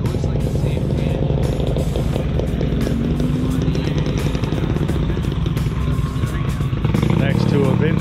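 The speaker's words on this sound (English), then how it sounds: "There's a moto guzzi." A vintage Moto Guzzi motorcycle engine runs steadily at a vintage bike meet, a loud continuous rumble amid a busy crowd, with people talking nearby throughout.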